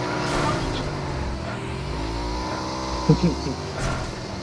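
An in-game car engine from a PUBG-style battle royale hums and revs steadily as the vehicle drives, with a few sharp knocks near the end. Someone talks over it in Hindi.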